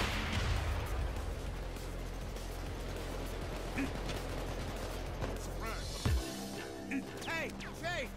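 Video game gunfire from a Payday 2 heist, rapid bursts of shots and clattering impacts over a dense battle din, with a player talking over the action.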